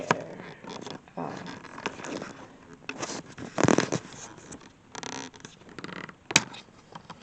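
Camera being unscrewed from a tripod: close, irregular scraping, clicking and handling rustles with a sharper twisting rasp midway and a brief click near the end, no talk.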